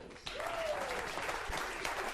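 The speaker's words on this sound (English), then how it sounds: "All that applause is for you." Audience applause, steady clapping from a crowd at moderate volume that sets in sharply and continues to the end, with a faint voice briefly underneath.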